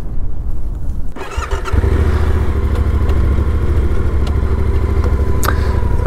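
Yamaha Tenere 700 motorcycle engine starting up and then running steadily, a loud close low throbbing rumble with some mechanical clatter, heard on the Canning Stock Route.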